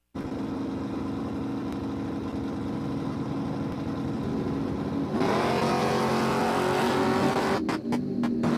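Drag race car at Empire Dragway launching off the line, a loud sustained engine roar that climbs sharply in pitch about halfway through, with brief choppy gear-change breaks near the end.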